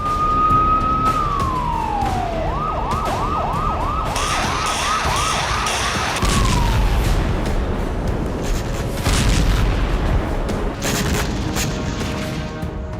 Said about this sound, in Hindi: अलर्ट का सायरन गूंजा।